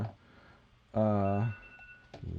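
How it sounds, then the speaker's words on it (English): Mobile phone gives a single loud buzzy tone lasting about half a second, close by, surrounded by quiet room noise and a faint voice. "if I can get my phone to stop"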